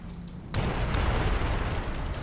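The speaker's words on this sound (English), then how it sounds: "Wow, massive explosion." A massive explosion in the sci-fi shooter Alien Swarm: Reactive Drop hits suddenly after a quiet moment, then a long, loud, rumbling roar and crackle holds steady to the end.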